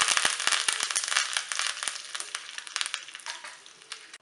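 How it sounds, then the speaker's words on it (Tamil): Mustard seeds crackle and pop in hot ghee, a dense burst of sharp snaps over a sizzle that gradually thins out, close and loud. "கடுகு இப்போ நல்லா பொரிஞ்சிருச்சு"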